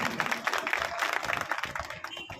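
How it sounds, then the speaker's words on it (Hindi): A crowd at a Bhim Army district event in Narsinghpur applauds: steady, dense clapping from many hands fills the space throughout, with some crowd noise mixed in. "इसके लिए जोरदार तालियां होगा।"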